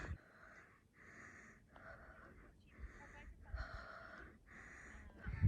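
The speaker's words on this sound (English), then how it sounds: "I'm so out of breath." Heavy, rhythmic breathing after a hike in Joshua Tree National Park, about six wheezy breaths in steady succession, close to the mic, with a louder gasp at the end.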